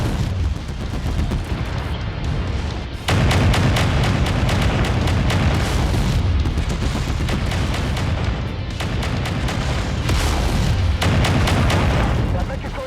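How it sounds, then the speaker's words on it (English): Weapon fire in MechWarrior 5: Mercenaries, with dense, continuous booming cannon and autocannon bursts and rapid repeating shots during a mech battle, loud and unbroken, while a voice talks over the gunfire. "Focus fire on this mech."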